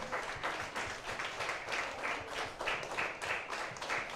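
A church congregation claps together during a worship service, a steady, moderately distant patter of many hands that swells and dips in rhythm without letting up.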